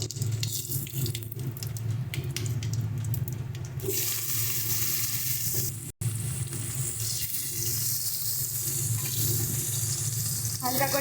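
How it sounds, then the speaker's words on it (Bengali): Steamed potatoes go into hot fish-frying oil tempered with cumin and bay leaf, producing a steady watery sizzle and hiss, briefly cut by a silent gap midway, then continuing with stirring scrapes. "হালকা করে ভেজে নেবো আলুগুলোকে"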